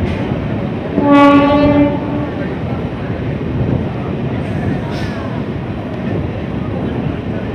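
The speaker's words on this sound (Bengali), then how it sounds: "বন্ধুরা, হাওড়া স্টেশন থেকে 31 কিলোমিটার কভার করে আমাদের ট্রেন এসে পৌঁছালো কামারকুণ্ডু।" A Howrah–Purulia MEMU local train pulls into Kamarkundu station with a sharp, brief horn blast early on, then a steady, rumbling roll of wheels and carriages continues with faint voices in the background.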